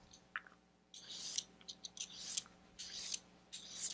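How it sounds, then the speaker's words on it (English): A julienne peeler shreds a peeled cucumber into strips, giving repeated crisp scraping strokes in several bursts of roughly half a second each, close and fairly quiet, with short pauses between passes and no talk. "I like to do it this way with the julienner."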